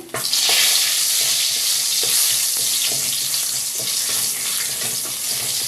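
Steady oil sizzle and crackle from cardamom pods and a bay leaf frying in a pan, constant and close, with faint clinks in the background and no talking.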